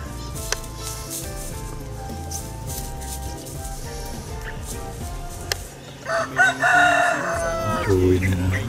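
Fighting cocks on a farm crow and cluck in the countryside, several loud calls rising over a steady background, with a burst of crowing and clucking near the end.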